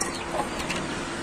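Chickens cluck softly nearby in a brief, low burst of murmuring calls, fairly quiet against faint background noise.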